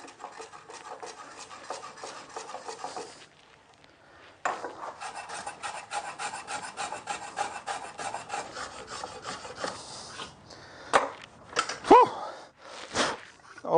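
A hand file rasps back and forth across the edge of a wooden knife block to cut a chamfer, with steady rhythmic strokes, a brief pause, then a few scattered scrapes and knocks toward the end.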